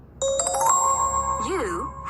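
A phone announces an incoming call with a bright chiming ringtone of rising and wavering electronic tones, close and clear; a wireless water level controller is set up nearby, with faint background voices.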